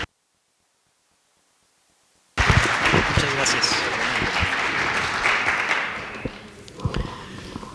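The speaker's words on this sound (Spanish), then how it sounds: "Lo recibimos con un aplauso" Audience applause at an academic lecture on the Zapatista agrarian revolution, bursting in after silence as steady, dense clapping that thins toward the end, with a few footsteps and a voice starting up.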